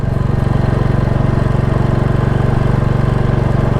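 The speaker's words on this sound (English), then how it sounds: "doing the typical second gear chug on a bad road surface" A 2022 Royal Enfield Classic 350 single-cylinder motorcycle chugs in second gear over a rough road surface, its exhaust a loud, close, rapid and even thumping beat that holds steady with no talk.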